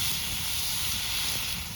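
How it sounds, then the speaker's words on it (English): Cod fillets in olive oil with dill and black pepper sizzle steadily outdoors on a cold winter camping trip, a soft continuous hiss with no talk. "Ooh, listen to that sizzle."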